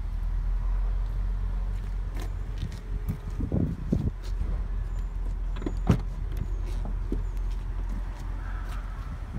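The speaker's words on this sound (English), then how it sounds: "Power lift gate" A power liftgate on a 2017 Buick Enclave runs with a steady motor hum and a few soft thumps and clicks as it moves, heard alone at close range.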